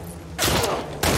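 Two loud, sharp gunshots from a powerful gun in a shooter video game crack out about half a second apart, each with a short noisy tail.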